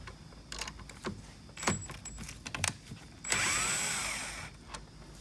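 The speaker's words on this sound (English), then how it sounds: "We're going to want to loosen this nut right here." A 10mm wrench works a nut loose on a GMC Terrain, giving a series of close metallic clicks and scrapes, then a longer rasping burst of turning near the end.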